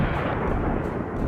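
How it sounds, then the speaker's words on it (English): A Javelin missile strikes and destroys a Russian tank during an armoured assault on a village, heard as a brief, heavy, continuous roaring blast. "it was pinpointed and destroyed with a Javelin missile"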